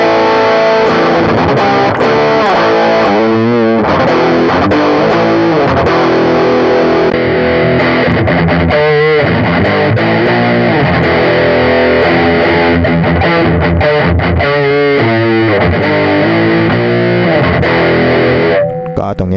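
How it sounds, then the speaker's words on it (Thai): Heavily distorted electric guitar through a Hotone Omni IR cab simulator plays chords and riffs, loud and saturated, with a brief pause near the end. "คราวนี้เราจะลองใช้กับเสียงแตกดูนะครับ"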